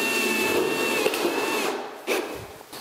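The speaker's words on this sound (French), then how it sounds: "je vais visser l'ensemble avec des vis autoforeuses." Power screwdriver driving self-drilling screws into a metal rail for a plasterboard suspended ceiling, a steady whirring drive followed by short bursts near the end, heard close by.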